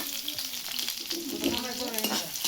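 Chopped onion and green chilli sizzle steadily in hot oil in a pan, a close, continuous crackling fry with a few stirring scrapes and brief tonal clinks along the way, no talking.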